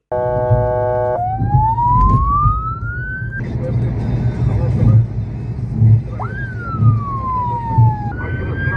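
Police and ambulance sirens wail and sweep in pitch, loud and close, over a rumbling engine as traffic officers escort organ transport vehicles to the airport in Samsun.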